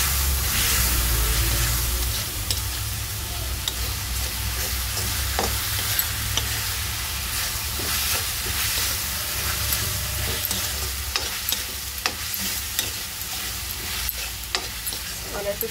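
Macaroni and masala are stirred steadily in a pan over a constant loud frying hiss, with scattered scrapes and taps from the spoon, close by and mostly without voices.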